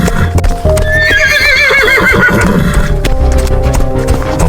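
A cartoon horse gallops with loud rapid hoofbeats and lets out a long, wavering whinny partway through. Both sounds are close and bright, with no voices.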